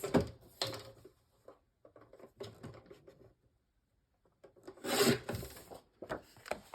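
A paper layering panel for a 4x9 notepad is trimmed by 1/8 inch on a paper trimmer, giving close, dry rasping slides in short bursts with quiet pauses between them.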